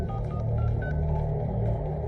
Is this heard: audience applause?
no